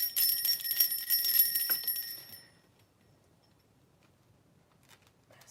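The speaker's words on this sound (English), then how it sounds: "Got all my bells here." Witch bells ring with bright, sustained metallic tones that fade out over a couple of seconds, followed by near silence with faint small clinks near the end.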